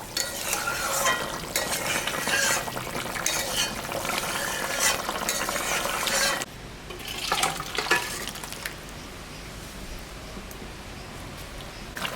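A spoon stirs koi fish curry in a pan with wet scraping and bubbling, loud and busy for several seconds before a brief pause and a quieter final round of stirring.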